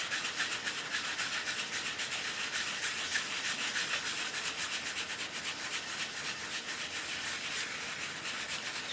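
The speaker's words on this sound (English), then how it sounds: "I'm going to sand a little right there." Sandpaper lightly scuffs paint off a cardboard journal cover in a soft, continuous rubbing hiss with faint repeated strokes, close but quiet and steady throughout.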